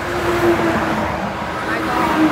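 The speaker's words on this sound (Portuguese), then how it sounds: "Deixa passar os caminhão aqui, ó, porque daí vai fazer muita. Muito barulho." Trucks pass on a road in hot weather, producing a steady, loud rumbling roar of engines and tires close by that fills the whole stretch, with a faint voice partly buried underneath.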